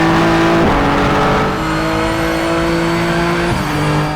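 A race car engine in the video game Project Motor Racing whines loudly and steadily, its pitch holding then dropping briefly before settling, with a thin, high-pitched, less throaty tone.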